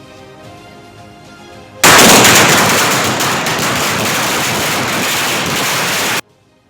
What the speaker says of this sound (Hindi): आतिशबाजी कर भक्त इस ऐतिहासिक क्षण का आनंद उठा रहे हैं